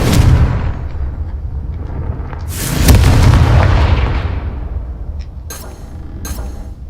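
A Confringo fire spell in the video game Hogwarts Legacy bursts into a loud, deep explosion that rumbles and slowly fades, following a low roar, with a couple of short crackling bursts near the end.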